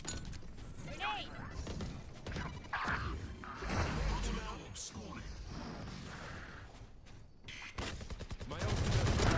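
Dense combat noise from Valorant video game, with a grenade blast and gunfire crashing and rattling almost continuously, mixed under lively voices and a rising roar of activity toward the end.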